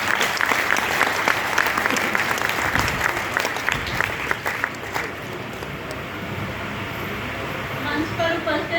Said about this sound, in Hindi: आपकी तालियों में ना दम सा लग नहीं रहा है